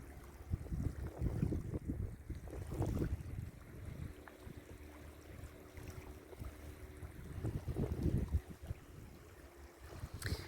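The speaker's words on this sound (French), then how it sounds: "Écoutez le bruit de l'eau, les vagues qui viennent s'écraser sur la plage." Waves roll onto the beach at Gruissan in a steady low wash, with a few surges of surf breaking nearby and faint wind over the microphone.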